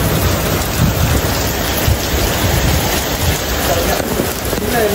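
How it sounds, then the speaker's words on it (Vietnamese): Heavy rain pours down during a downpour, a loud, dense, steady hiss of drops hitting surfaces that continues throughout, with faint voices now and then beneath it. "Mà bây giờ là bắt đầu mưa rồi đó."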